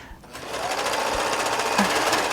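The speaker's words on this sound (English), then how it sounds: "I use a serger and I sew fleece." A serger stitches fleece fabric with a rapid, loud, even mechanical buzz that starts after a brief pause and runs steadily at close range.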